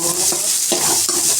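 Close, loud sizzling of shallots frying in a pan for mutton chukka, broken by two or three scraping stirs of a spoon, with no voices.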